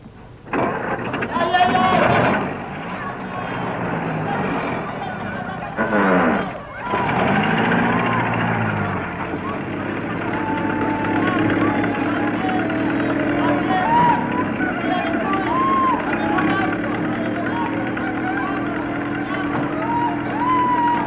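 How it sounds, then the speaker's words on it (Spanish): A pickup truck engine turns over and settles into a steady idle, a continuous rumbling hum running under people talking throughout the scene. "makiwa camionet motor naktai halthañataki"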